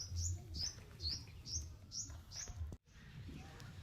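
Pigeons released outdoors from a loft, with a series of short regular chirps about twice a second over light background noise, then a brief cut to quieter ambience.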